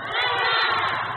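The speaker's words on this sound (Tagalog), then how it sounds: "Sigaw niyo nga, barkada." A crowd at a family talk event shouts a single word together, a loud unified burst of many voices held for about a second.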